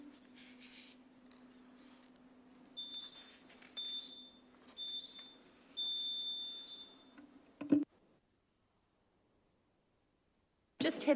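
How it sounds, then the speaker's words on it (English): Electronic beeps from a council meeting's speaker-turn system, sounding as a series of short high tones in a quiet room with a low hum, followed by a couple of clicks. "Just wait for the beeps"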